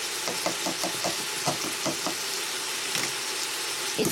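Ground beef frying in a pan, with a steady, close sizzle running throughout and several light knocks and scrapes from stirring in the first half.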